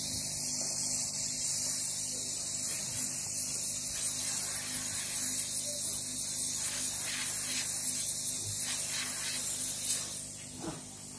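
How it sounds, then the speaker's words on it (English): A spray gun on an H2O2 skin care machine hisses out a steady, fine mist, close and fairly quiet over a faint machine hum. "This is the spray gun."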